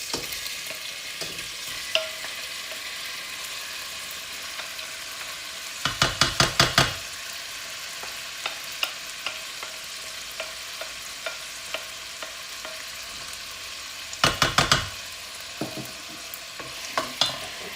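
Chicken sizzling and frying in a pan, a constant close hiss with repeated bursts of sharp scraping stirs and light taps against the pan.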